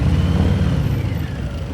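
A 2023 Harley-Davidson Fat Boy 114 motorcycle engine rumbles with a deep, steady low-end drone, close and loud, and holds a constant pitch through the short stretch.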